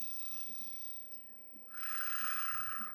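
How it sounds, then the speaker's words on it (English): A single slow breath from a deep breathing exercise, quiet at first and then a longer, louder airy exhale, close and without talk. "then do the deep breathing."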